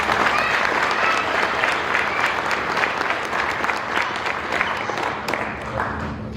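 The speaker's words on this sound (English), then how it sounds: "So give them a big round of applause." A crowd at a welding banquet breaks into steady, full applause, dense clapping held at an even level throughout, with some voices mixed in.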